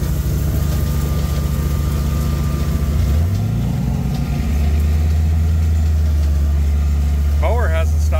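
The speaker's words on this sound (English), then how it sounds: "Mower hasn't stopped yet." A small mower engine drones steadily and loud through the whole stretch, its pitch sagging and then settling into a low, constant idle, with a brief rising whine near the end, during brush cutting on newly acquired overgrown land.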